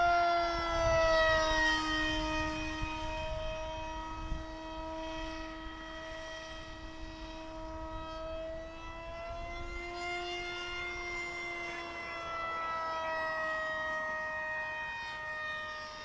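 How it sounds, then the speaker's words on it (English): A foam RC model plane with a prop-in-the-box setup passes by outdoors, a steady whining drone with a soft whoosh that shifts in pitch as it goes past, moderately distant. "Prop in the box setup makes a slight whooshy sound, as you can tell as it goes by."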